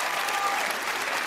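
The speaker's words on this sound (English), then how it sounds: "Can I get another round of applause, please?" Steady applause from the audience at Bethesda's E3 2018 press conference, a dense wash of clapping holding at an even level throughout without pause.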